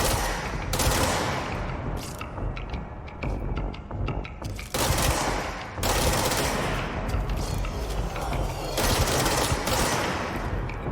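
Rapid sniper rifle gunfire in a video game, a loud dense burst of shots rattling in several bursts with brief pauses between them.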